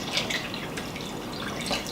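Water is poured from a can into a soup pot of tomato-based fall soup, a steady splashing, gurgling pour heard up close and alone for the whole stretch.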